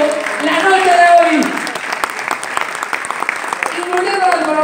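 Audience applause for a live musical group at a foundation concert, a loud mass of clapping with some overlapping talk, dense at first and then thinning.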